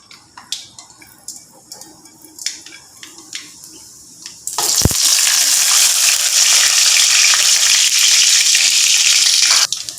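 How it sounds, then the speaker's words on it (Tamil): Mustard seeds, urad dal and cumin seeds hit hot oil with a sudden loud, steady sizzle that roars on for several seconds, following a few light clinks and taps of preparation. "சீரகம் போடுறேன்"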